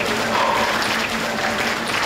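Steady applause from a wedding banquet crowd greeting newly introduced chefs at a Taiwanese outdoor feast, dense and continuous throughout with no voices on top.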